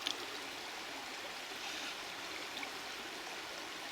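A polluted North Yorkshire beck, blackened by spilled digestate slurry, flows with a steady, even rush of moving water at moderate distance, unbroken throughout and with no voices.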